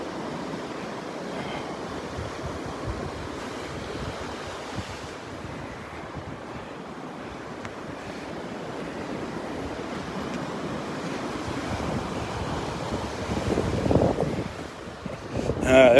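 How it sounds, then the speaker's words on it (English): Surf rolls steadily onto the sand at Delnor-Wiggins beach while wind gusts across the microphone, building to a stronger rumbling blast near the end; no one speaks. "There's a little blast of wind."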